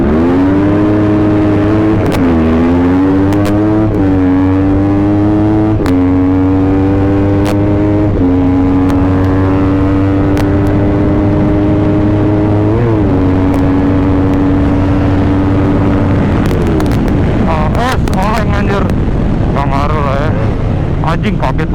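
Two-stroke and four-stroke motorcycles racing, engines revving up in repeated rising pitch sweeps through gear changes, loud and close, ending in rough, crackling high revs, with brief talk over it.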